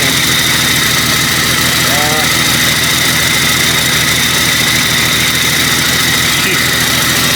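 A rebuilt car engine after a four-month rebuild, running with a loud, steady, close idle rumble and a constant high whine, while people talk briefly over it.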